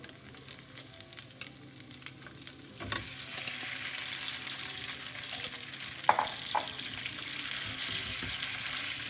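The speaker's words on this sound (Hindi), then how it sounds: "अच्छी तरीके से हम हिलाएंगे और इसमें डालेंगे चिकन" Chicken with garlic paste frying in a pan, a steady soft sizzle with occasional clinks and scrapes of stirring, close and fairly quiet, growing slightly louder after a few seconds.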